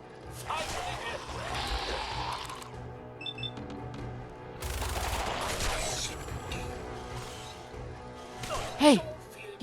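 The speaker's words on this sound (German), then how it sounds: "Schüsse aus dem Hinterhalt" Scattered bursts of ambush gunfire in Fallout 4, short volleys separated by pauses, with a voice speaking between them and a sharp gasp near the end.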